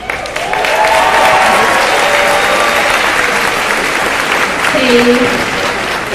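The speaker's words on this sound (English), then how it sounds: "Please hold your applause until the end." Sustained applause from a large audience at a school senior recognition assembly, a dense wash of clapping that holds steady throughout, with a voice briefly heard over it.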